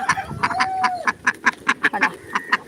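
A duck quacks in a rapid run of short nasal calls, about a dozen in under three seconds, fairly close and alone.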